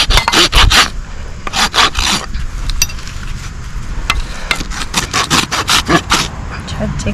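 Overgrown hooves of a miniature horse mare with slight club feet being trimmed and rasped smooth, heard as close, rhythmic rough scraping and filing strokes in bursts, while someone talks over them.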